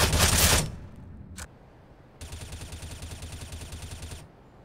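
Bursts of suppressed M4A1-S rifle fire in CS:GO, a steady rapid string of muffled shots lasting about two seconds after an earlier brief burst, moderately loud.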